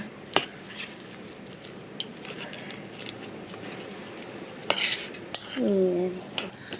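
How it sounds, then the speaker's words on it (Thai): A spoon presses and stirs salt into lime juice in a small bowl, giving scattered light metallic clinks and scrapes at a close, quiet distance, with a brief squeaky rub near the end. "อันนี้เกลือกับมะนาวนะคะ ผสมกันไปเลยค่ะ"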